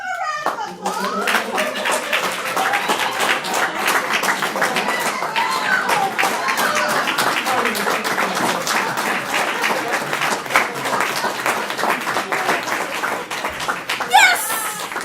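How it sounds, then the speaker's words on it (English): An audience at an MVP open house gives a sustained round of applause, dense hand clapping filling the room for about fifteen seconds, with scattered voices and a bit of laughter underneath. "Give him a round of applause."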